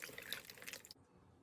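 Cold water splashes and trickles into a turkey brine of water and ice for about a second, a soft close liquid rush that cuts off abruptly into near silence.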